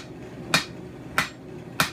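A forging hammer strikes hot metal on the sharp edge of an anvil three times at an even pace, each blow a crisp, ringing clank standing alone against quiet background.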